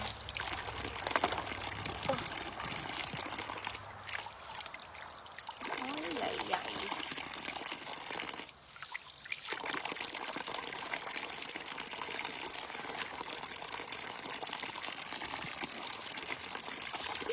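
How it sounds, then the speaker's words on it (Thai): Tap water runs steadily while large oysters are scrubbed clean, a constant close hiss and splash with brief shifts in flow, under someone talking throughout. "ตอนนี้ ล้างหอยนางรมนะคะ"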